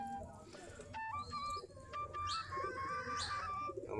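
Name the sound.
domestic Giribaj pigeons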